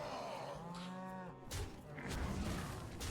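A cartoonish cow in the Hearthstone card game lets out one drawn-out moo that falls in pitch, with a thud and a crash of game effects right after, over steady background music.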